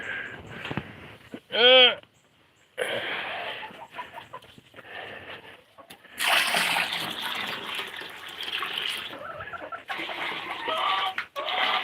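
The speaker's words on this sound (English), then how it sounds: "pour the water in there" Water poured into a container outdoors on a chilly morning, a bright splashing stream that starts midway and runs for several seconds, with a rooster crowing briefly earlier and a voice speaking in between.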